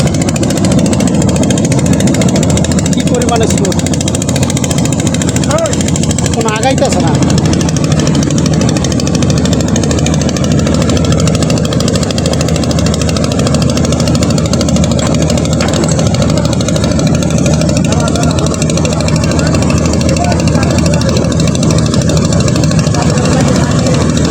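A loud, steady small-boat engine at full power on a river against a strong current roars continuously with a low rumbling drone, running hard throughout with no break and no voices.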